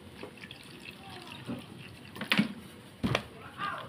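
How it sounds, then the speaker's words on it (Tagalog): Water splashes and trickles into a container onto tamarind in a few short bursts, close by, with quiet talking in the background. "Tapos, lagyan natin ng tubig."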